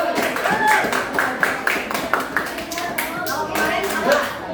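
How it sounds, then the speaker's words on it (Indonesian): A small group claps for a Bandung community group, with distinct uneven hand claps close by, mixed with voices talking and cheering throughout. "Beri tepuk tangan dong untuk kelompok masyarakat Bandung."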